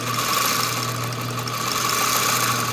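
Juki zigzag lockstitch sewing machine running steadily while stitching leather, a continuous close mechanical drone with an even hum and no pauses.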